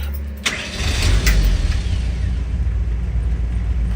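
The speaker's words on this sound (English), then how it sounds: "And it starts nicely and settles down to a nice idle." A restored 1968 Land Rover Series IIa 88-inch with a 2.25-litre petrol engine, key start, cranks briefly and catches, then settles into a steady, quiet idle heard up close with no talking.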